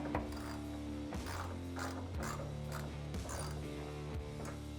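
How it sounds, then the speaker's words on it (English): Ratchet tightening bolts on ditch light brackets for a Tacoma, a quiet rapid clicking repeated in about five short strokes at a steady rhythm, close by. "Next up, we'll just go through and tighten these bolts down."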